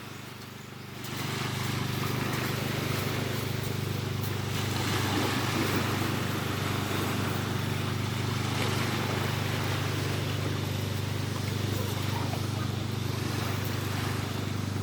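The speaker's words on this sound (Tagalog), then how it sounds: "Maabot na yan ng tubig ang castle nyo." Beach surf washing up around children's sand castle: a steady, continuous rush of water with a low rumbling undertone, fairly loud and unbroken after a quieter first second, with no voices.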